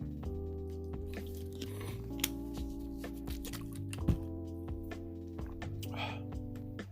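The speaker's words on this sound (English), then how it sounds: "let me drink this water" A person drinks water in a few small wet sips and swallows, faint and close, over quiet background music.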